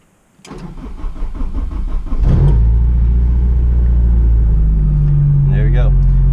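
A car engine running an AEM Infinity ECU cranks for about two seconds, then catches and settles into a loud, steady idle with a slight rise in revs, close up, with a brief voice near the end.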